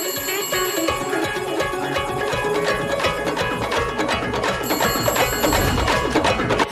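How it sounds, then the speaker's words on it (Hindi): A telephone rings with a rapid metallic bell trill, continuous and fairly close, with background clatter. "हमने जिस टेलीफोन नंबर को टेप किया उस नंबर पर दूसरे नंबर से कॉल आ रहा है"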